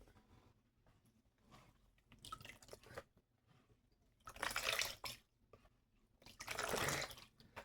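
A cloth gets soaked in a bowl of warm water and squeezed, giving soft sloshing and squishing bursts with dripping between them, close by and without talk.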